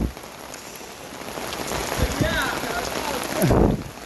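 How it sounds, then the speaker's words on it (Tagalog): Heavy rain pours steadily onto a surface, a dense continuous hiss with a few louder passing swooshes. "Lakas talaga ng ulan"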